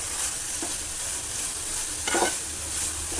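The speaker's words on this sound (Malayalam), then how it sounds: "നെയ്യൊന്ന് നന്നായിട്ട് വഴറ്റി." Grated carrot sautés in ghee for carrot pudding, a dense, even sizzle close by with a few soft stirring scrapes.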